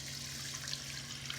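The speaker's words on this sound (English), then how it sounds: "Then I'm gonna add 2 cups of water." Water pours steadily into a pot of long grain white rice, a continuous soft trickling wash at moderate level, with a low steady hum underneath and no voices.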